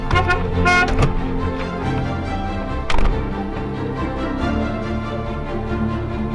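A car passes on a road as its horn gives a few short toots near the start, followed by a steady engine hum and tyre noise, with a brief bump partway through.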